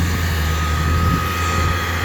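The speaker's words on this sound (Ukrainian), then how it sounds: "Трактор 150 коней, сівалка форшпронта 8 метрів." A 150-horsepower tractor pulls an 8-metre seed drill across a field sowing a cover-crop mix of oats, mustard, radish and phacelia, giving a brief, steady, close engine drone with no talk.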